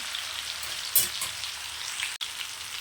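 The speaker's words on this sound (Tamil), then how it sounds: "இது வந்து நான் சுத்தமான கடலெண்ணெயில் போடுறதுனால இந்த பொங்கி வருது" Fish fries in bubbling groundnut oil with a steady hiss and crackle, a brief louder spatter near the start, and a short dropout late on.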